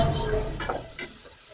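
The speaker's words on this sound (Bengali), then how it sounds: "তো মশলাটা আমি ভালো মতো কিছুক্ষণ কষিয়ে নেব।" Spice paste for pangas fish sautéing in a pan, a soft sizzle with a couple of brief stirring scrapes, fading quieter toward the end.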